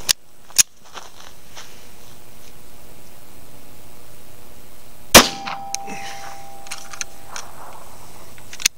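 A .32 ACP pistol, a Beretta 81 or Astra, fires one sharp shot into ballistic gel from about three yards, a crisp crack midway through, preceded by a couple of small clicks and followed by faint clinks and a low hum.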